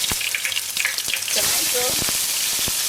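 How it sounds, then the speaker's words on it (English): Chopped onion sizzles in hot oil in a pan as Indomie noodles are prepared, a steady loud crackling hiss that swells as more onion goes in. "I'm gonna be adding a little bit of onion"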